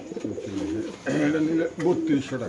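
Pigeons in cages give soft, repeated cooing close by, mixed with someone talking throughout.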